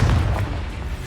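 Confringo explosive spell going off in the Hogwarts Legacy video game, a deep booming blast with a heavy low rumble that fades quickly, short and loud.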